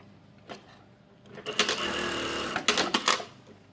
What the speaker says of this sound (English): you can have a little practice of sewing something just to make sure